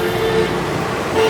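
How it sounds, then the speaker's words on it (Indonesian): A car passes on a street, a steady mid-loud road rumble with a brief tonal horn-like toot near the start and again at the end, no talk over it. "Hati-hati ada mobil"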